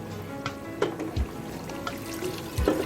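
Hot water poured into a pot of cooking mutton paya (goat trotters) sizzling in a rich masala, heard as a close, steady wet hiss and trickle with a few soft splashes and knocks, without talk.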